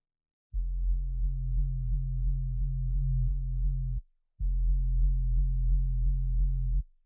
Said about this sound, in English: It's a very subby low sound with some automation bringing in.